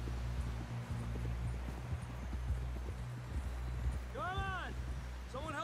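Horse hooves clip-clop steadily in the Red Dead Redemption 2 video game, a rhythmic trot under continuous background ambience, with people talking over it and a brief whinny near the end.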